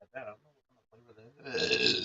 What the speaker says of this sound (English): so I do apologize for burping